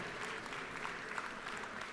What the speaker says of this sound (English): I would like for y'all in the house to give them a big round of applause.